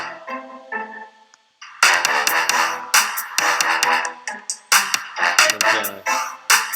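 An orchestral arrangement plays a cello and trombone line under punchy orchestral hits and short staccato violins. After a brief quiet gap, the music returns in loud rhythmic bursts with no speech.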